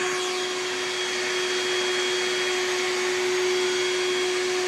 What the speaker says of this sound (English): They're gonna be going straight into our big green vacuum right here.